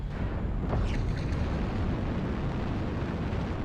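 Airstrike explosion in a mech combat video game, a heavy rumbling boom that lingers as a dense low roar for several seconds, loud and alone.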